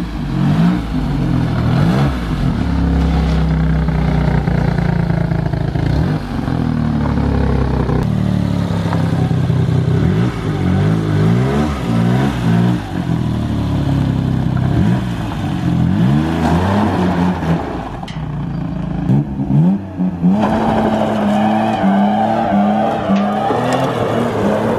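A 1982 BMW 320/6 engine, started after a year unused, idles and revs roughly, with a steady rumbling, sputtering exhaust blowing a little underneath throughout and occasional rising engine notes.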